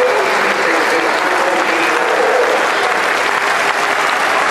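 A cricket crowd at Leeds in 2002 giving Sourav Ganguly a standing ovation, sustained loud applause from a large stadium audience with steady clapping and no break.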